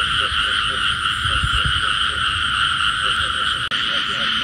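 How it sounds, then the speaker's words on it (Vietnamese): A frog croaks at night in a flooded rice field during a frog-hunting outing, its pulsing calls repeating close and loud over a constant high trilling chorus of insects or other frogs. "Rồi đó con ếch này kêu đâu hoài."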